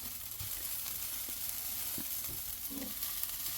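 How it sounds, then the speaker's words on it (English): Spam fried rice sizzling steadily in a hot pan, a close, quiet hiss with occasional soft stirring scrapes and small pops. "how long do you think that we're going to fry this rice?"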